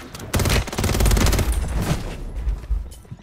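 Rapid bursts of gunfire from the Warzone video game, loud and dense with overlapping automatic shots that rattle on for about three seconds.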